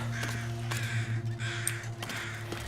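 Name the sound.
crows cawing in the video game The Long Dark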